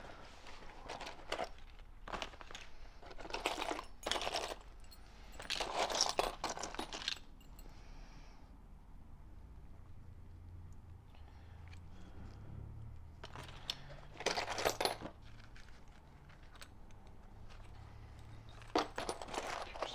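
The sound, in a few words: bunch of old padlock keys being rummaged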